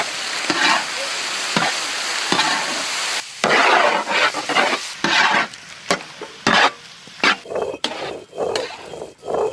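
Prawns fry in butter with garlic and onion, a loud continuous sizzle punctuated by repeated scraping and clattering stirring strokes that grow more frequent and choppy toward the end.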